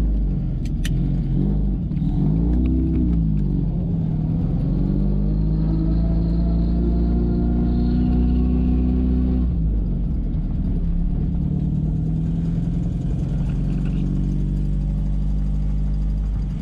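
A Triumph car engine running on a quick test drive, a steady close low rumble with several rising revs and gear changes, a brief jingle of keys early on, and no talking.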